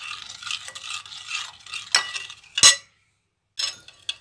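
A spoon mixes icing sugar into bun dough in a bowl, giving a few scraping, clinking strokes up close, one sharp clack near the end, then a short pause before more mixing.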